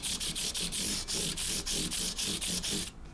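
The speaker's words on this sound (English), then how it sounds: "I hit the frets with some 150 grit" Coarse-grit sandpaper is rubbed over the stainless steel frets of a Koa J-200 guitar in quick, even back-and-forth strokes, a close, loud rasping rhythm that stops just before the end.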